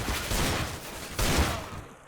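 Rapid bursts of CS:GO video game gunfire crackle in a dense, continuous volley, with a louder flurry of shots partway through.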